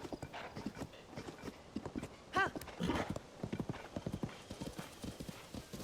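Horse hooves clip-clop in a steady trotting rhythm in Zelda: Tears of the Kingdom, with a short whinny partway through and faint talk underneath.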